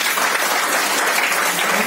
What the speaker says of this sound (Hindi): तो उनके लिए तालियां होनी चाहिए